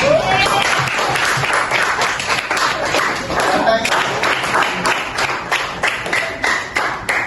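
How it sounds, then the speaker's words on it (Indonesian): Classmates in a classroom give sustained applause for a peer, a dense, loud patter of many hands clapping steadily throughout. "Berikan aplaus untuk temannya."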